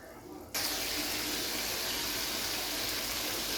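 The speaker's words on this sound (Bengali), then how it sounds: "অল্প পরিমাণে জল দিয়ে কিন্তু মশলাটাকে খুব ভালো করে কষিয়ে নিতে হবে" Water pours steadily into a pan of tomato and spice masala for a Bengali prawn curry, a broad continuous rush that starts suddenly and holds loud and close throughout.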